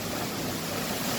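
Waterfall at Curug Luhur in Ciambar, Sukabumi, heard as a soft, steady rushing wash of falling water with no break and no voices.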